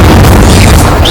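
The Incendio fire spell erupts in Hogwarts Legacy on PS5, a loud, close, explosive boom with a roaring rumble that carries steadily through the short burst.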